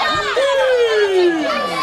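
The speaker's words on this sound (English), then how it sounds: "Crowd giving McCarthy a little bit of a what for, a little bit of payback of him spitting into the crowd." Wrestling crowd at a Ring Wars bout jeering Mike McCarthy, a dense wall of loud voices with shouts and whistling calls rising over the din, continuous and close.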